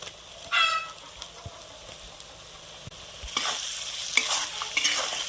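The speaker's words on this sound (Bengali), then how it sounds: "মশলাটা কষিয়ে নেব" A spice paste of salt, chili powder, cumin, ginger-garlic paste and tomato fries in a pan for mutton kosha, with intermittent scraping stirs and soft sizzling that grows louder and busier in the second half.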